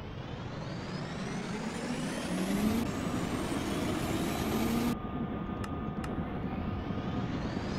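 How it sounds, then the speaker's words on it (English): A General Electric aircraft engine spooling up in the Minecraft Immersive Vehicles mod: a steady broadband roar with a rising turbine whine that climbs and then shifts abruptly partway through, heard alone without talk. "go back into that seat and go fire ourselves up an engine"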